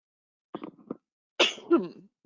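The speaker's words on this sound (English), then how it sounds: "I'm having a little bit of a sneeze tonight" A short sneeze-like burst, then a second louder sneeze with a tonal rasp, close to the mic against silence.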